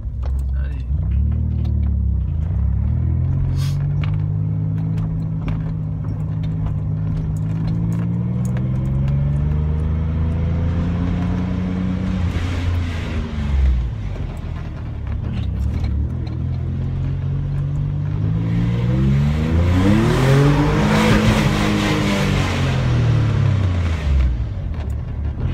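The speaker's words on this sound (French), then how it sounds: "on se retrouve avec un moteur qui est plus souple, et comme il y a plus de couple on n'est jamais tout le temps dans les tours" A 1994 Maserati Ghibli II with a V6 biturbo engine drives at low revs, around 1500 rpm. The deep engine drone rises and falls smoothly as it pulls, with someone speaking French over it.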